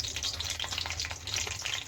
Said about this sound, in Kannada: ಈಗ ನಾನು ಇದಕ್ಕೆ ಮೆಣಸಿನ್ಕಾಯಿನ ಸೇರಿಸ್ಕೊಳ್ತಾ ಇದ್ದೀನಿ.